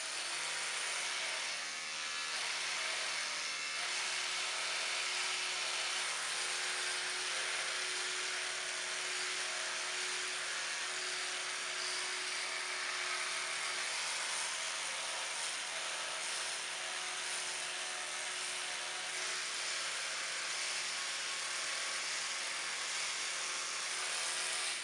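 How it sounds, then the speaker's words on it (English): An electric toothbrush buzzes steadily against teeth, held in place rather than scrubbed back and forth; a continuous, fairly quiet high-pitched hum runs unbroken throughout with no voices. "You just place the toothbrush and allow the toothbrush to do the job."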